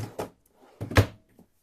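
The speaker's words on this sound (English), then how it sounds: "Got some storage drawers" A drawer in a 2018 Heartland Pioneer RL250 travel trailer's kitchen slides and knocks shut in a few quick wooden thumps, close by, followed by a faint click.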